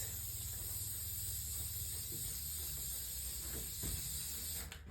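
An aerosol finishing spray is applied to a beaded mosaic outdoors in a light breeze, a steady close hiss held throughout with faint wind rumble beneath, cutting off at the end.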